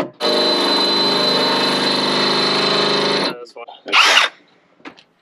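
A cordless drill whirs steadily at high speed for about three seconds boring through composite and steel of a camper floor and subframe, then stops, followed by a short sharp burst of grinding and a few faint clicks.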